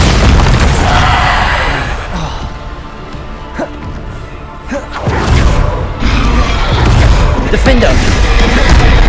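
Bombarda spell explosions in Hogwarts Legacy, a series of heavy booms and crashing bursts, loud and close, with a calmer stretch between them and talking over the top.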